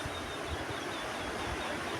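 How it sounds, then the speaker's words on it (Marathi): Steady, broad rushing of surf washing in, continuous and fairly soft, with low rumbling surges and no voices. "बघा मित्रांनो लाटा"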